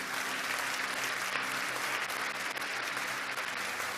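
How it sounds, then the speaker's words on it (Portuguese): A church congregation claps together during a service, giving an even, continuous wash of applause that holds steady at moderate loudness throughout. "Pode bater palmas se você quiser."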